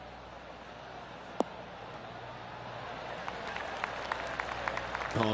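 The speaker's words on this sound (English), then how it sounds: "Oh, golf clap." A gallery in the PGA Tour 2K23 golf video game gives a polite golf clap: faint, scattered handclaps build gently over a few seconds above a quiet background hiss.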